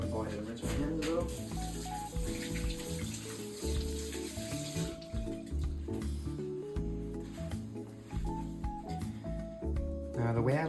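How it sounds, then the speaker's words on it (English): Tap water runs steadily over hands being rinsed at a kitchen sink during home cooking, a continuous splashing stream partly masked by music and a voice. "I'm gonna go ahead and rinse my hands a little."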